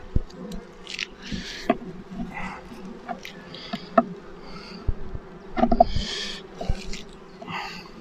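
Honey bees buzzing densely around a beehive colony, a steady close swarm hum with individual bees zipping past the listener, brief soft bits of background noise but no clear talk.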